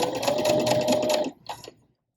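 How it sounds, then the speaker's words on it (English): A sewing machine stitches channeling onto a bra with one brisk run of about a second, then a brief stuttering bit of stitching before it stops into silence. "line it up and sew, fold the frame out the way, line it up"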